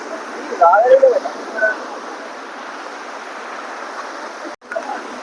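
A stream running over small waterfalls in Telangana gives a steady, broad rush of flowing water close by, with a few brief chirping tones near the start.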